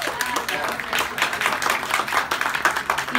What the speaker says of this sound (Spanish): Otro aplauso muy fuerte para ellos.